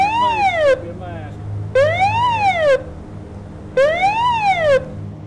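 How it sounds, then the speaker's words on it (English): A gated siren for medical emergencies at the Merom and Ratts site sounds in three loud separate bursts, each rising and falling in pitch, with a low steady hum filling the gaps. "A gated siren is our medical emergency siren."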